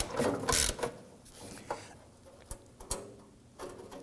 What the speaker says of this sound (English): let's go ahead and snug down that inner bolt